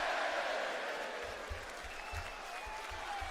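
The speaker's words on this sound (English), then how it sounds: "This London crowd is chanting one more time." Arena crowd at a live WWE SmackDown wrestling event in London, a broad sustained roar with rhythmic chanting and clapping pulses throughout, loud and steady.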